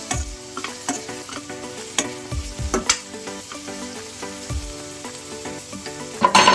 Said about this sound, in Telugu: ఇందులో ఇప్పుడు క్యాప్సికమ్ కూడా వేసుకుందాం. వేసి మంచిగా మిక్స్ చేసేద్దాం.